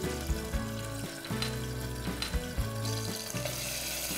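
Ginger garlic paste and chopped green chilies frying in hot oil, a close bubbling sizzle with rhythmic mechanical clattering and tonal hum mixed in, no voices.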